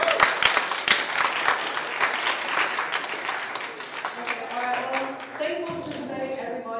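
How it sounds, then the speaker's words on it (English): Audience at a chairperson candidates debate gives a round of applause, a dense burst of clapping that thins out as a voice begins talking over it toward the end. "so we have a round of applause"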